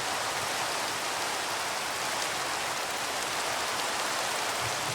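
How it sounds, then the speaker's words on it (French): Steady rain in Minecraft, a dense continuous hiss of falling water holding evenly from start to finish with no voices over it. "Oh non, il pleut."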